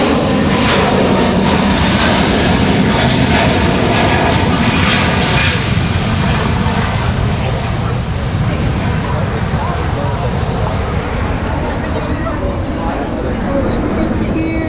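A Frontier Airbus A321 at Raleigh-Durham airport passes with a loud, sustained engine roar that fills the scene steadily, heard at close range with faint voices beneath it.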